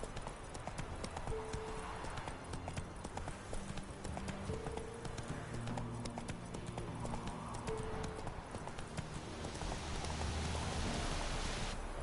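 Roach the horse's hooves clip-clop steadily in The Witcher 3: Wild Hunt, a slow walking gait heard over a wash of falling rain, moderately close and without talk.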